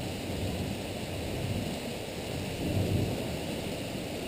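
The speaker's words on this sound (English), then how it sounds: "First official thunderstorm of the spring" A spring thunderstorm in Vermont: steady rain hisses throughout while low thunder rumbles and rolls, swelling briefly near the end, with no voices.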